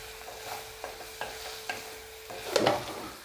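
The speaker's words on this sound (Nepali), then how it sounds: "परवल हल्का रातो रातो भएर खरिन थालिसकेको छ।" Pointed gourd (parwal) pieces fry with turmeric and salt in a pan, a soft sizzle broken by several light scraping stirs of a spoon, ending in a louder stir.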